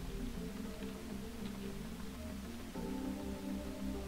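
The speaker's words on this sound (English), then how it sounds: "we have a toxic rain" Toxic rain falls on the Martian colony in Surviving Mars as a faint, even hiss of rainfall, with a soft tonal background hum running steadily underneath and no voices.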